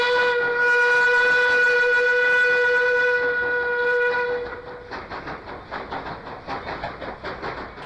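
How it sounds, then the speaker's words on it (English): A little steam locomotive on a small steam railway sounds a loud, sustained harmonic whistle for about four seconds, then chuffs away in rhythmic puffs. "There was a little steam engine running around the place."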